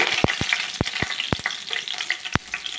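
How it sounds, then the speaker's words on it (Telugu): Lentils, mustard seeds and cashews fry in hot oil in a pan, a steady crackling sizzle broken by several sharp clinks of a spoon against the pan, close and fairly loud with no voices. "ఒక్కరిగా వేయించుకుంటాం త్వరగా వేయించుకుందాం మాడకుండా"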